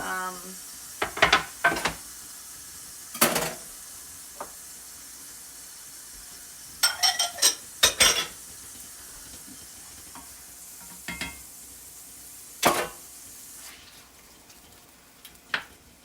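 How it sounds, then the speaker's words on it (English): Fajita meat cooking in a pan, a faint hiss punctuated by several sharp bursts of sizzling as it is stirred and turned, quiet between the bursts. "we'll get this meat cooked up"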